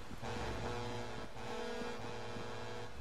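A car engine in the video game GTA 5 Online hums steadily at moderate level, a continuous tonal drone with no speech over it.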